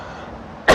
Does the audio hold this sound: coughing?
yes